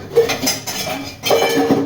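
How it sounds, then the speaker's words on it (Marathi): Breakfast dishes clatter and clink as they are scrubbed by hand and handled, with bursts of clanking pots and cutlery close by, in two busy stretches. "नाश्त्याची भांडी तेवढी घासून टाकते"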